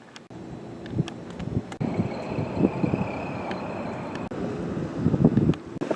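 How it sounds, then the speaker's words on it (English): Wind gusts buffet the microphone outdoors beside a 2024 Lexus LC 500h at night, a steady rushing roar with a few sharp knocks and thumps. "Getting windy out here."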